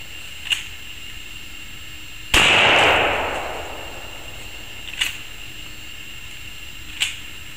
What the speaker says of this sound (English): you can also use a shotgun to break down the skeletal structure of a zombie